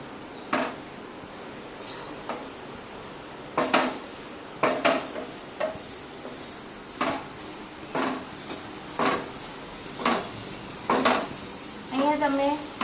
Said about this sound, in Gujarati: આપણે ફૂલ ફ્લેમ પર જ ઘીમાં સારી રીતે ગાજરને સાંતળીશું।